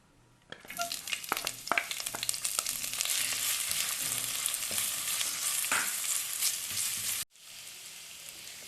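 A tablespoon each of ginger and garlic hits two tablespoons of hot oil in a pan for crab roast, bursting into a loud, crackling sizzle with spoon clatter that holds steady for several seconds before cutting off abruptly.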